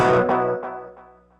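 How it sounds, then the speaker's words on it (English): Guitar through a Catalinbread Belle Epoch tape echo pedal, a single struck note followed by three or four decaying repeats spaced about a third of a second apart, each fainter than the last, with no talking. "the Echo Sustain knob allows you to dial in how many repeats you want to have"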